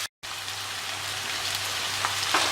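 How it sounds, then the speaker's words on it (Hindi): Onion masala frying on medium heat in a pan, a steady close sizzle and crackle that runs without a break after a very brief gap. "अब इसे हम मध्य आंच पे गोल्डन ब्राउन कर लेंगे"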